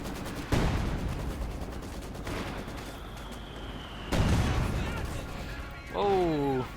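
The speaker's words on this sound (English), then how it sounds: "Mortar and field gun here bombarding, doing the trick." Mortar and field gun shells bombard positions in the Company of Heroes 2 video game, with two sharp explosive impacts and scattered gunfire over a rumbling battlefield background, ending in brief chirping game sounds.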